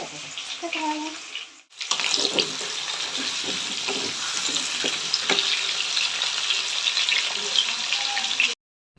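Potatoes frying in a pan with a continuous hissing sizzle close by, starting after a brief pause and cutting off near the end, with faint background voices.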